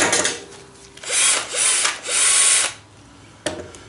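Brushless cordless power drill revving in short bursts, three loud whirring runs of about half a second each with brief spin-downs between, then a sharp click near the end, no talk.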